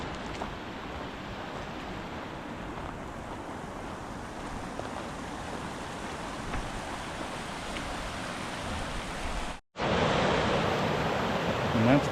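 A cold mountain creek in the High Sierra's Kern Canyon flows with a steady, broad rushing roar that continues unbroken, apart from a momentary dropout near the end.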